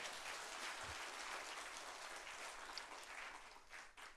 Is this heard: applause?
yes